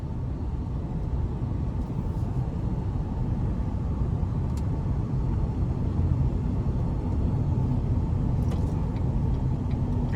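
A 2021 GMC Canyon Denali 4WD with the 3.6 engine drives along a back road. A steady low rumble of engine and road noise fills the cabin, with no voices.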